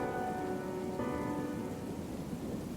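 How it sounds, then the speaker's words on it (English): Rain pounds steadily against a window during a stormy night, a dense continuous patter with a low rumble of thunder underneath and no voices. "the sound of rain pounding against the window"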